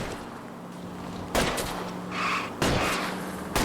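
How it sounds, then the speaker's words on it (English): Two sharp broadband gunshots in the video game L.A. Noire, fired at a fleeing car's tires, punching out over a steady low engine drone with a brief gap between them. "I'll try to shoot out his tires."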